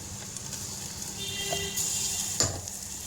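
Onion and paste being sautéed in a pan, a low steady sizzle with a spoon stirring and one sharper clink against the pan.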